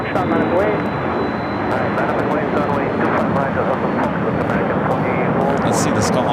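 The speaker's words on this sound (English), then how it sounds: "runway 25 right at Foxtrot, clear for takeoff" An airliner takes off from runway 25 right at Los Angeles International Airport, a loud continuous engine roar and rumble that stays steady throughout, with a person speaking over it.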